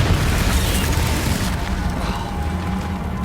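A Confringo blasting spell explodes in Hogwarts Legacy, a dense, loud, sustained booming rumble that fills the whole moment and slowly eases off without a clear single hit.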